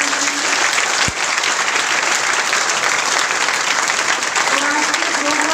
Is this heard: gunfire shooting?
no